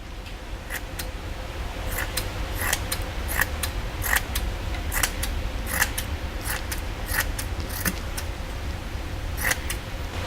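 A mat being snipped into small pieces with scissors while mounting headlights on a Manx dune buggy, a steady series of crisp close snips over a constant low background hum.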